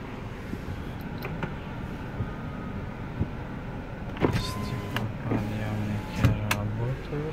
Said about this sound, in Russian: Мотор и зеркала складываются.